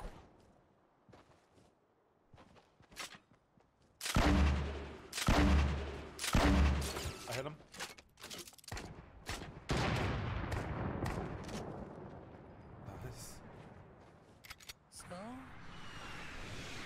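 Gunfire in a Fortnite Battle Royale match, a run of loud, sharp shots in quick bursts after a quieter start, followed by scattered reports and game effects, with players talking over much of it.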